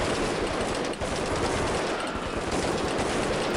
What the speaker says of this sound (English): Somehow we gained the ability to shoot through walls.